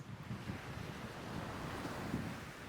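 Sea waves wash onto the coast at Salthill, Ireland, a soft, continuous surf rumble mixed with gusting wind buffeting the microphone, faint and steady throughout.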